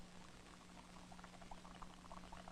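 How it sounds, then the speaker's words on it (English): Water boils in a paper cup held over a candle flame, a very faint, close bubbling patter with small irregular pops over a low steady hum, and no voices. "and the water soon starts to boil."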